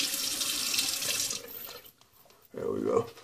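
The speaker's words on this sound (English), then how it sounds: "I just wanted to add a little water to this." Water runs from a tap for over a second, then stops, followed by a brief low splashing as water is worked into Geo F. Trumper Eucris shaving cream, with a faint voice underneath.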